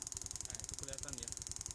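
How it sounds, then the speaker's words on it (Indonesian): A motorcycle engine runs steadily in a garage setup for a ground strap test, with a fast even idle pulse and a high electrical whine over it, and a voice talks briefly over the running engine. "Mesinnya hidup, roda berputar ya"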